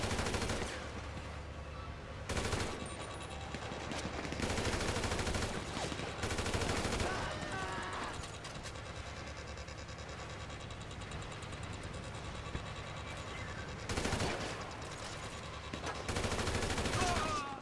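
Bursts of automatic AK assault rifle fire in GTA 5 Online, sustained rattling volleys broken by short pauses, loud and continuous through most of the stretch, with a player's voice talking at times.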